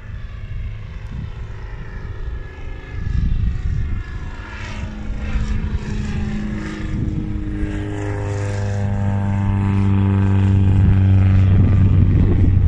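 A P-51 Mustang's propeller engine roars close by as it takes off from the Sandtoft airfield strip, a loud droning tone climbing steadily in pitch and volume as it gathers speed, with no speech.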